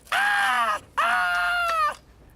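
A person's voice imitates a scream as watercress is pulled apart: two loud, drawn-out, tonal cries, close and alone, separated by a short pause.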